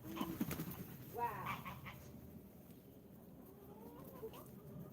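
Birds at an outdoor drinking spot give a few soft, scattered clucks and calls against a quiet background, busiest near the start before fading to a low hush.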